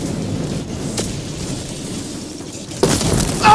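An AA cannon in a chaotic shooter video game sets off muffled booming explosions, low rumbling blasts with a sharper burst near the end, loud and close, without speech.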